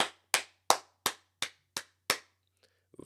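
One person claps seven times, each clap sharp, close and evenly spaced, before a short silence.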